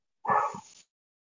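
A single short dog bark rings out close and fairly loud, followed by silence.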